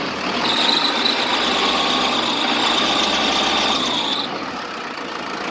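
A Shibaura D335 loader engine runs steadily while a thin, high-pitched belt squeal whines over it under throttle for several seconds, then cuts out as the engine keeps going.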